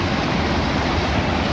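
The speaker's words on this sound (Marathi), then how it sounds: "वर बघा पाणी किती येत आहे" Swollen river water rushes over a dam during rain, a loud, dense and continuous roar that stays steady throughout at close range, with no talking.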